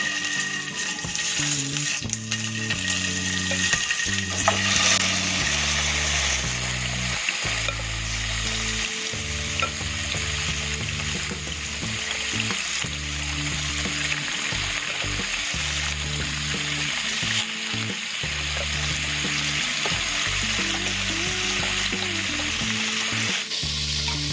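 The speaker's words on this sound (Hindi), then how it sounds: "और हम चिकन को शैलो फ्राई करेंगे।" Chicken shallow frying in a pan gives a steady, loud, continuous sizzle with spattering crackle throughout, alongside faint tonal background sound.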